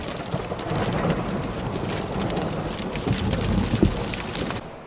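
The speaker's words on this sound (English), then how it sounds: "This storm, powerful in Arizona, produced not only thunder, rain, and sleet, it produced something called thunder snow." A thundersnow storm in Arizona, heard as steady heavy precipitation hiss with a low rumble of thunder rolling underneath, fairly loud and continuous.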